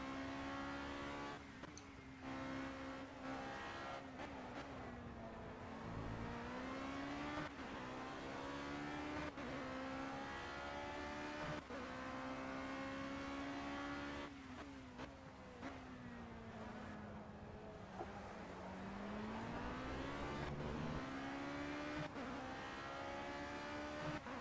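A Formula C race car engine in Project Cars at Imola, revving hard and continuously while drifting, its pitch sweeping down and climbing back with gear changes, loud and close throughout.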